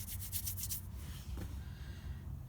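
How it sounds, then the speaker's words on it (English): Sanding resin smooth on the underside of a lowrider bicycle frame being restored, a steady close scratchy rubbing with a few brisk strokes at the start, continuous throughout. "I'm gonna sand it smooth,"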